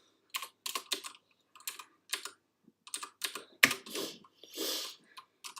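Short bursts of keystrokes on a computer keyboard, clustered in quick runs with brief pauses between them, close and fairly quiet, with no talking.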